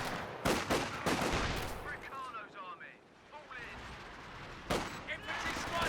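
Machine gun fire in Company of Heroes 2 comes as sharp bursts of rapid shots, loud near the start and again toward the end, with a quieter gap between and a commentator talking over it.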